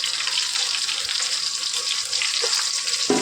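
Curry leaves dropped into hot tempering oil for fang-leaf dhokla crackle and sizzle loudly and steadily, a close continuous hiss with a few sharper pops near the end, no talking.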